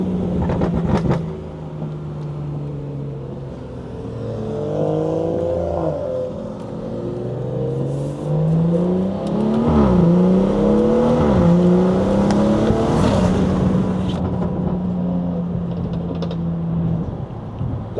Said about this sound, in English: We gonna try to do some flybys so y'all can hear the cars